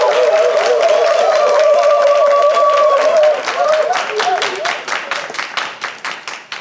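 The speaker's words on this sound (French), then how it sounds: "Tous les applaudissements." An audience at a student presentation event applauds loudly, the dense clapping thinning after a few seconds into scattered, fading claps, with a voice briefly audible early on.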